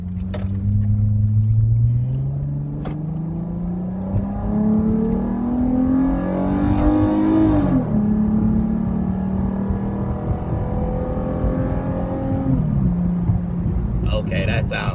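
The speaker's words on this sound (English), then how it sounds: "The exhaust is installed, so I finna go do a pull right now" A V6 Dodge Charger with a new Pypes performance exhaust accelerates hard through the gears, its exhaust note rising and dropping at each shift, loud and close, with road noise underneath.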